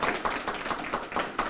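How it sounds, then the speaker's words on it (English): A few people clap in quick, uneven bursts at a college program's end-of-year ceremony, a short, moderately loud spell of applause. "I give them a little applause"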